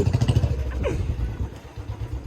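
A scooter engine putters and idles nearby with a low, uneven chugging rhythm, fading slightly toward the end.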